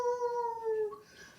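A voice imitates a wolf howl: one sustained, wavering call that slowly falls in pitch and then fades, fairly quiet and alone.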